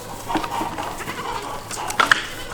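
Goats bleat on a farm during kidding season, a few short calls rising over a steady background, with several brief cries clustered near the end.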